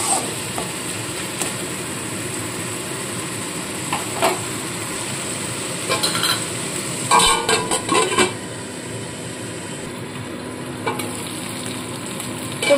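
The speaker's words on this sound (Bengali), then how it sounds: "মশলাটা ঢাকা চাপা দিয়ে খানিকক্ষণ কষিয়ে নিতে হবে।" A spice paste for chicken pulao fries in a pan with a steady, close sizzle, broken by bursts of stirring and metallic scraping clatter near the middle and a few sharper knocks.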